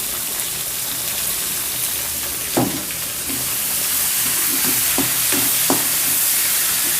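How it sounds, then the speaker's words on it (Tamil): Sliced onion goes into a frying pan for chilli chicken, raising a loud, steady hiss of hot oil with a few soft clatters and taps from stirring, heard up close without talk. "ஸோ இப்போ நீளமாக கட் பண்ண ஒரு வெங்காயத்தை போட்டுக்கிறேன்."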